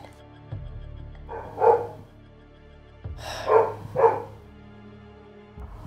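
A dog barks in a video-game session: one bark near 1.7 s, then two quick barks around 3.5 and 4.1 s. They are fairly close and loud over a steady low hum, and no one talks.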